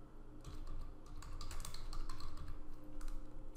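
A template name being typed on a computer keyboard: a quick, fairly faint run of close key clicks over a few seconds, with no talking.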